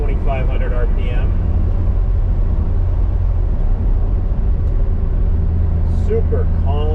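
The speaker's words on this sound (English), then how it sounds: "Traveling along at about 40 miles an hour in 4th gear" A 1968 MG C GT cruises at about 40 mph in 4th gear, just over 2,500 rpm, with a steady, loud low engine drone and road noise while someone talks over it.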